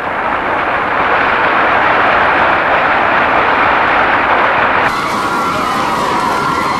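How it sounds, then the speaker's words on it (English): Presidential aircraft landing at Love Field in Dallas on November 22, 1963, heard as a loud, steady roar of jet engine noise with crowd wash, shifting in tone near the end. "The presidential plane landed in Dallas at Love Field at 11:39 a.m. on November 22nd, 1963."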